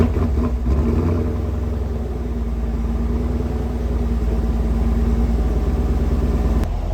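A rebuilt, previously wrecked 2021 Chevrolet Camaro SS 1LE V8 catching on startup, then settling into a loud, steady, rumbling idle close by.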